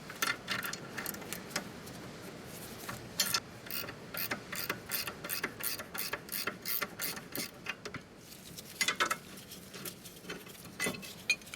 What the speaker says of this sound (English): Now we're gonna remove the second caliper bolt.